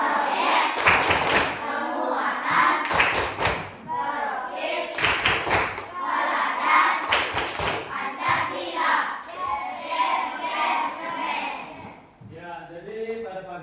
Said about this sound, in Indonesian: untuk lebih kita bersemangat ya, kita tepuk kelima dulu ya